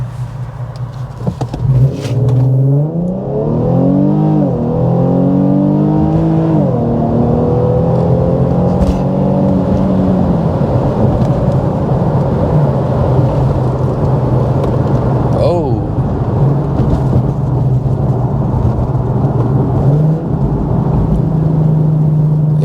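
An Infiniti Q50 engine with aFE drop-in filters and new cats revs hard and close, pitch climbing and dropping with throttle, then settles into a steady deep exhaust rumble.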